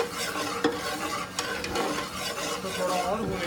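Besan (gram flour) roasting in a pan with cumin seeds, stirred continuously: dense scraping and rasping with a soft frying sizzle underneath, close and steady, a few sharp spoon knocks.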